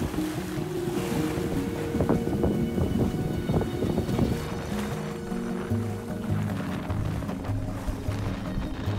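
Strong wind roars across a sailboat in heavy weather on the Mediterranean, steady loud gusting noise buffeting the microphone, with water rushing and splashing against the hull throughout.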